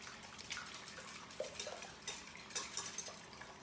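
Eggs being mixed in a bowl for scrambled egg muffins, soft clinking and scraping of a utensil against the bowl, quiet and close, with no talk.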